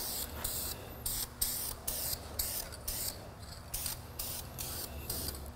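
Short repeated bursts from a spray paint can laying a light top coat on a car differential, roughly a dozen evenly spaced hisses with brief pauses between, close and fairly quiet with no talking.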